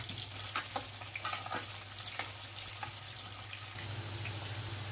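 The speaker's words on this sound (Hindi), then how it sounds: "इसी तेल में मैं आलू फ्राई कर लूँगी और इसे मैं मीडियम फ्लेम पर फ्राई करूँगी" Potatoes fry in oil over a medium flame for a Bangladeshi kacchi chicken biryani, giving a steady close sizzle with a low hum beneath it, broken by a few sharp stirring clinks and pops.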